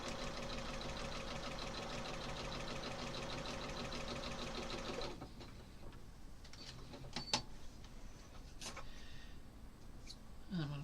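A sewing machine stitching a quilt runs with a steady, rapid mechanical hum for about five seconds, then stops, leaving quieter clicks and handling noises.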